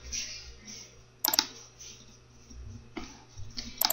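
A computer mouse clicks twice in quick pairs, sharp close clicks separated by quiet stretches with soft background noise.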